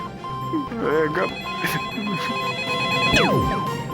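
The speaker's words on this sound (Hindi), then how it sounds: "ये प्रिया बार बार फोन कर रही है" A telephone rings with an electronic ringtone, mixed with a man's speech, background music and a brief descending sweep near the end.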